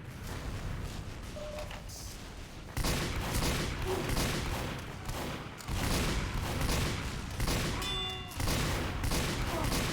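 Bursts of rapid gunfire from the online shooter game Team Fortress 2 fill the scene, loud and dense with short breaks, joined by sharp electronic blips near the end.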